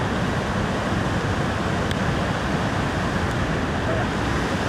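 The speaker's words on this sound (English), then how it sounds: "I don't know if you guys can hear me over the sound of this friggin' waterfall" Roaring waterfall beside the Smith River, a dense, loud, unbroken broadband rush heard up close, with wind buffeting mixed in.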